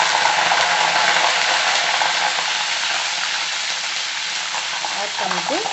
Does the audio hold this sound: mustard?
yes